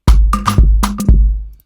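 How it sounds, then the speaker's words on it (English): Conga hits layered into a music production beat, a handful of sharp percussive strikes with short ringing tones, loud and close, playing alone for under two seconds. "more congas."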